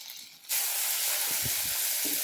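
Mint leaves hit a hot pan for chutney, setting off a sudden loud, steady sizzling hiss that continues without a break after a quiet start, with faint low thumps from stirring.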